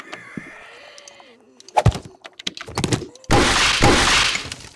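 Curtains come crashing down in the 7 Days to Die video game, a loud rumbling crash like a rockslide that follows a few scattered thuds and knocks and roars on steadily to the end.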